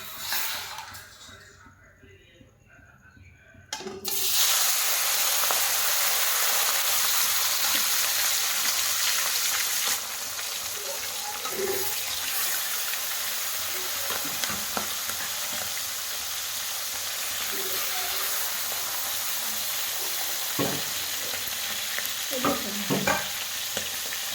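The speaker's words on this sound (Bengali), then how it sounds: "এখন একটু খুন্তি দিয়ে নাড়াচাড়া করে দেবো, দিয়ে এবার একটা করে মাছ দিয়ে দেবো" Lalu fish hisses and crackles loudly in hot oil as a spatula stirs and scrapes, the frying bursting in abruptly after a quieter opening and staying dense, with occasional clinks and no speech.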